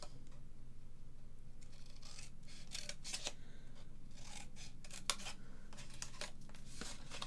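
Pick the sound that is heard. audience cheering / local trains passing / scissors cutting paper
scissors cutting paper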